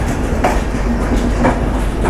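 A passenger train arrives at a railway station platform on the Visakhapatnam to Hazrat Nizamuddin route, with a steady, loud rumble of rolling wagons and rhythmic clicks of wheels crossing rail joints.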